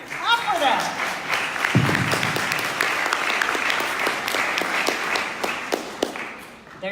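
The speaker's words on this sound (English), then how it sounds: "Clap for that." An audience at a recovery talk breaks into steady applause, dense clapping sustained for several seconds before thinning out, with voices and a brief whoop mixed in.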